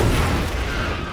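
A loud, dense burst of explosion noise from a scene in the Borderlands movie where a bomb disguised as a plushie goes off, a brief roaring blast filling the moment with no voices.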